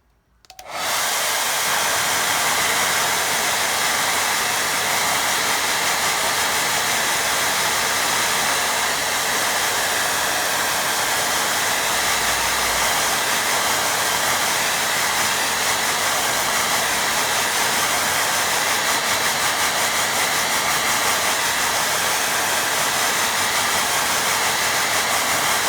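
A hair dryer blows steadily and loudly on a watercolour painting for the whole stretch, starting abruptly and holding a constant broadband roar with no talking.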